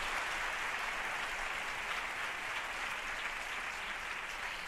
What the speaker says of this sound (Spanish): Un aplauso para ella, por favor.